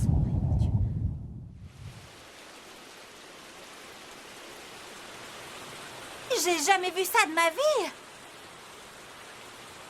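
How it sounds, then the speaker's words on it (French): Heavy rain hisses in a steady wash in an animated cartoon after a brief spoken line, with a short burst of high, wavering squeals partway through. "tout d'un coup, il pleut des cordes"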